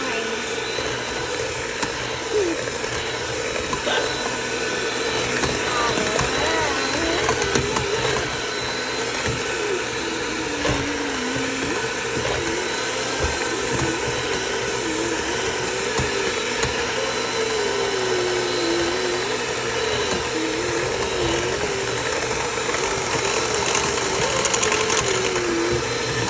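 A kitchen appliance churns stubborn butter that won't soften, a steady whirring motor drone running loud and continuous throughout, with a person talking over it.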